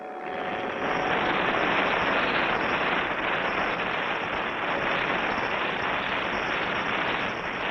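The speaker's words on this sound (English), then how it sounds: "Your folding model airplane. Here it is, Clutch. Wind it up and let it go." Cartoon sound effect of a wind-up folding model airplane in flight: a continuous buzzing, whirring propeller drone, fairly loud and steady throughout with no speech.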